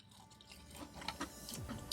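A bite into crunchy Popeyes twisty wicked fried shrimp gives close, faint chewing and crunching that rises in short bursts over about two seconds, with no voices.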